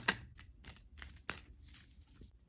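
Tarot cards being shuffled, soft papery riffles and flicks in several quick bursts, close and fairly quiet, with no talking.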